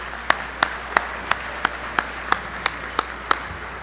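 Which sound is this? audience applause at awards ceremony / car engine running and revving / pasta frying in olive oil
audience applause at awards ceremony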